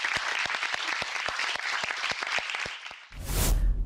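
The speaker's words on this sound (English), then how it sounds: "Can we give a huge clap for our authors today," An audience at a podcast event gives a round of applause for guest authors, with a few sharp individual claps standing out over the crowd before ending in a short burst of noise.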